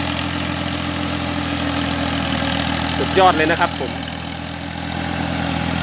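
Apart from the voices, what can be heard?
tractor engine idling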